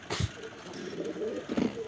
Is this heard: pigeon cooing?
yes